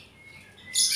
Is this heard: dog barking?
no